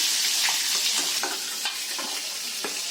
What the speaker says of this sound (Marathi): तेला थोड्यावरती फ्राय करून घ्यायचे थोडा वेळ.